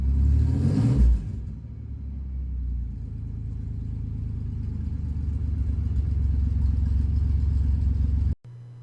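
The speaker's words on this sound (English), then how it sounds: "it does start, and I can give it some gas, and immediately red lines out on the tack" A Camaro project drift car's engine revs hard to redline, then settles into a loud, steady rumbling idle close by before cutting off abruptly near the end, with no voices.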